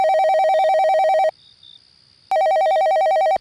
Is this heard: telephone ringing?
yes